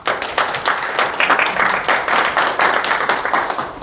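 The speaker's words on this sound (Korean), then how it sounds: "박수 소리가 작은 것 같아요." Audience clapping at a Korean business CEO course gathering, a steady patter of many hands with slight irregular swells, moderately loud and close, with no voices over it.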